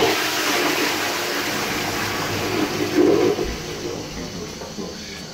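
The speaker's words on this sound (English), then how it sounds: "Another flush, because that was a fucking good flush." A Doulton toilet pan flushes with a steady, close rush of water that swells briefly midway before settling, with no talking over it.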